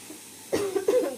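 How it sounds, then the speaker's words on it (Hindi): A woman coughs twice in quick succession, close and clear, in a quiet home kitchen while cutting potatoes. "खांसी हुई है फ्रेंड्स मुझे"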